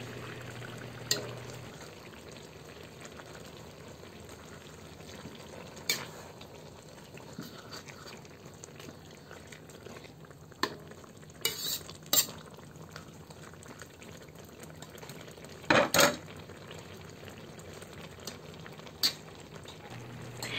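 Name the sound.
stirring laing (taro leaves) while it cooks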